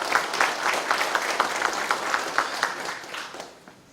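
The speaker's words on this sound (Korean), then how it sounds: "장시간 유익한 말씀해 주신 이천 시장님께 큰 박수 부탁드립니다." An audience applauds at the opening ceremony of a farmers' practical training course, with moderate, rhythmic clapping heard at a middling distance that fades out toward the end.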